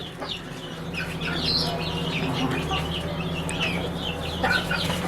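Chickens cluck and squawk repeatedly at close range, a steady barnyard chatter with a low hum underneath.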